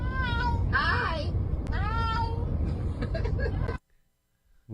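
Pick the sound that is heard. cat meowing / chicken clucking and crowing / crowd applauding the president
cat meowing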